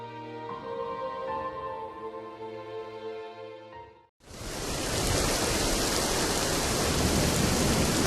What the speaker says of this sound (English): The rain poured heavily and bombs crashed into the Mandaeans' settlement.